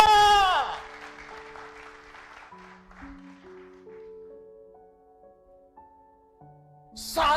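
Applause fades away over the first couple of seconds, then sustained keyboard notes step upward one after another.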